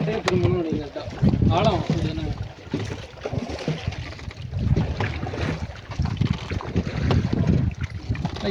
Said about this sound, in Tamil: இந்த போட்டில் தான் நம்ம இப்போ போக போகிறோம். மூங்கில்ல பண்ண போட்டு.